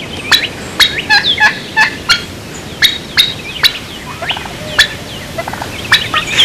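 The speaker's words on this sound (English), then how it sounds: "Some of the worst sounds you'll hear in the spring woods will come from the turkeys." Wild turkey in the spring woods letting out a burst of sharp, loud calls in irregular clusters, close by, with no voices.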